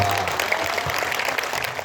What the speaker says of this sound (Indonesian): Tepuk tangan kanggo